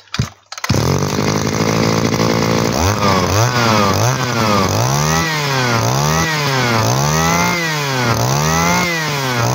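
A used Japanese grass cutter's small two-stroke engine starts and runs loud and close, revving up and down repeatedly in a rising-and-falling whine.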